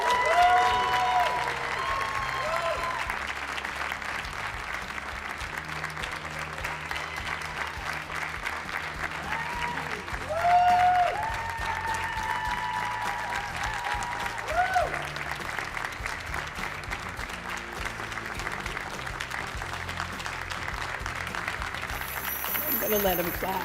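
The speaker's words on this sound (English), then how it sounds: "I'm gonna let them clap as long as they want to" Sustained audience applause filling a hall at an awards ceremony for a lifetime achievement honor, dense steady clapping throughout with faint voices and some music-like tones beneath.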